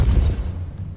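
The Depulso spell cast in Hogwarts Legacy lands as a single loud, deep, booming burst that rumbles and then fades within a second.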